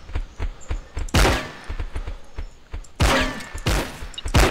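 Loud shotgun blasts from a fast-reloading gun in a video game duel, two big booming shots with ringing tails amid quicker clicks, thumps and reload clatter, no speech.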